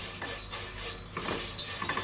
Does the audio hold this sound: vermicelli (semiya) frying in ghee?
yes